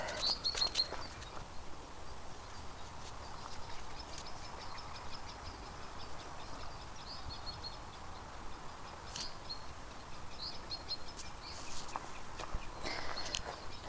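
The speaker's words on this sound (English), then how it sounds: "You can hear the wee birds." Faint, high chirps of small birds flicker intermittently over a quiet outdoor background at Navan Fort among stinging nettles, with soft rustling footsteps throughout.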